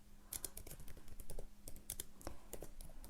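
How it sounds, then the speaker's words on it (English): A computer keyboard being typed on at a desk, a quick run of light close key clicks at a steady pace, faint and with no talk. "I'll type a comment here"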